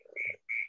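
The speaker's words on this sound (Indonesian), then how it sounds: "Suara jangkrik malam, Kang." Night insects or frogs give two short, shrill chirping trills, each a fraction of a second long with a brief gap between, heard fairly close against a quiet background.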